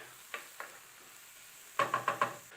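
A few soft scrapes of stirring, then a burst of quick sizzling as onion hits hot fat in a pan.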